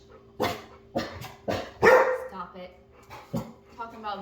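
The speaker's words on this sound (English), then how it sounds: "they start barking" Several Australian Shepherd dogs bark in short, sharp bursts at close range, about six barks spread unevenly, one longer and louder yelp in the middle, with quieter whimpers and a voice murmuring between them.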